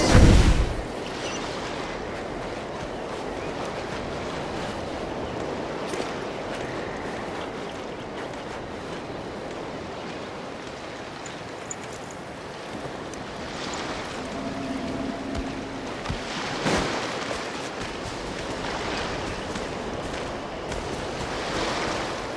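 In Genshin Impact, a boat carves through ocean waves with a continuous wash of surf and rushing water, plus wind and a few brief splashes, and no one talking.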